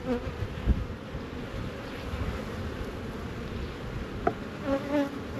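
Honey bees in a Northern California hive at a cantaloupe field buzz in a steady, dense drone, close and continuous, with a couple of brief louder knocks and no voices.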